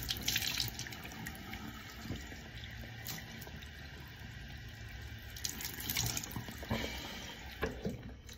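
Water from a bathroom sink tap runs steadily while a face is rinsed, with soft splashing and uneven patting splashes close by and nobody talking.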